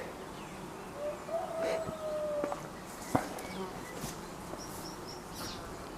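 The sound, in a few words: honeybees buzzing at hive entrance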